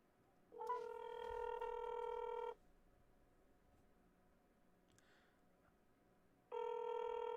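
Two long ringback tones sound on an outgoing phone call, one from about half a second to two and a half seconds and another starting near six and a half seconds, with quiet line hiss in the gap between them.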